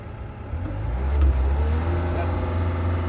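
Bobcat skid steer engine idling nearby: a steady low rumble that swells briefly as if revved and then holds at a constant drone.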